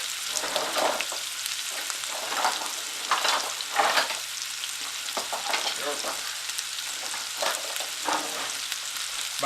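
Chicken pieces browning in a hot pan, with a steady bright sizzle and intermittent stirring scrapes, close and continuous.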